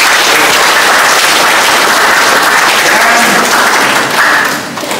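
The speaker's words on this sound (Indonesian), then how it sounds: "Kita beri tepuk tangan." Sustained audience applause at a church blessing and dedication ceremony for a newly built church in Tambunan, a dense, loud wash of clapping holding steady for about five seconds before easing slightly near the end.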